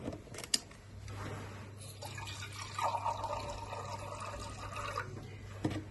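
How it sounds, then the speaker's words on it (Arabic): Milk and water trickle and splash steadily into a pot for several seconds, with a low hum underneath and a couple of brief clinks. "هحط شوية لبن، اوكي، عليهم شوية مية"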